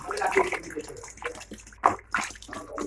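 Water poured into a cooking pot on a gas stove for ghugni with peas and spices, a splashing, gurgling pour in irregular bursts, close by, with faint kitchen clatter.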